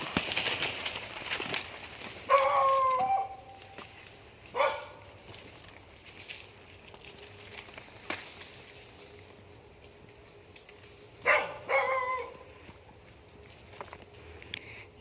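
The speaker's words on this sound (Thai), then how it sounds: "เสียงหมาเห่านะครับไม่รู้ว่าเป็นหมาของชาวบ้าน" A village dog barks from a distance in a forest area during a ranger patrol, in a few scattered bursts of short barks over a faint ambient background with occasional bird sounds.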